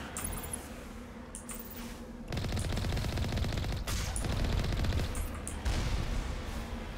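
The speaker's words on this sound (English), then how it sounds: "They are opening fire on us. Automated defense turrets, I'm assuming." Automated defense turrets in Mass Effect Legendary Edition open fire in sustained bursts, a dense rattling barrage with short gaps, loud and close, with a lower rumble running beneath.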